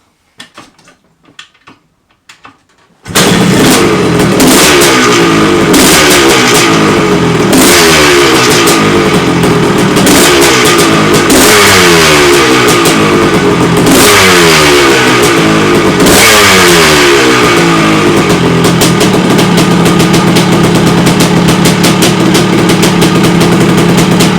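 After a few faint clicks, a 1979 Yamaha YZ250 dirt bike engine, rejetted with a DG aftermarket exhaust pipe, roars loud and close, revving repeatedly with a raspy, throaty exhaust bark that rises and falls.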